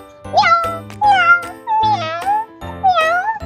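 A cat meows four times in a row, each cry drawn out and fairly close, with short pauses between them.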